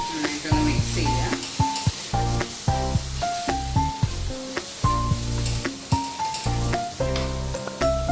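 Coriander powder being stirred into frying masala in a pan for chicken kofta curry, with steady loud sizzling broken by repeated scraping strokes of a spoon in a regular rhythm, close up.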